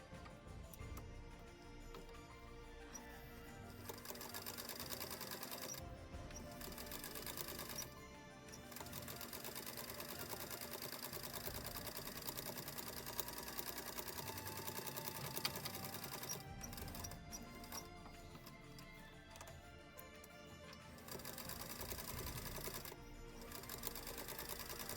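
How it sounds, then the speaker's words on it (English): A sewing machine runs steadily, top stitching around the edge of a fabric coaster, its rapid mechanical whir continuing with a few brief pauses and no talking. "But I'm gonna go and top stitch around."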